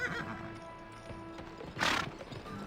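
A horse in the western video game GUN whinnies loudly over clip-clopping hooves, with a sharp, bright neigh rising partway through against a busy game soundscape.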